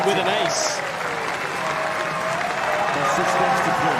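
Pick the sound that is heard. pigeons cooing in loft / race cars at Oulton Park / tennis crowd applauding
tennis crowd applauding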